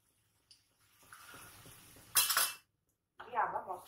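A utensil scrapes and clinks in a pan while turmeric and chili powder are fried into a spice masala for moong dal with drumstick leaves, heard as a few short scraping bursts separated by quiet gaps.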